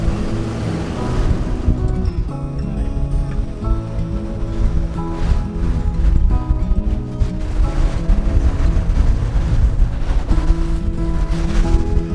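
Waves surge and wash steadily around a sailboat moving fast at about 18 knots near an island's fringing reef, with continuous watery rushing and wind noise close to the microphone, no talking.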